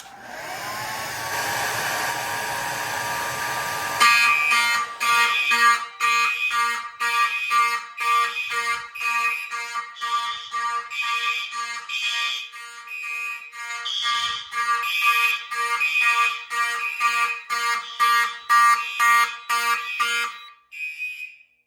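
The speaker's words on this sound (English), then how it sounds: "Crazy loud horn there." A loud basement fire alarm system horn blares in a rapid pulsing pattern during a test, harsh and close, after a brief stretch of steady whooshing noise at the start.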